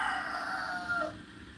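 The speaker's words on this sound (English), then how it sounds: "The rooster is screaming good morning." A rooster in Jamaica gives a single drawn-out crow with a wavering tonal pitch that trails off after about a second, faint and somewhat distant against quiet background.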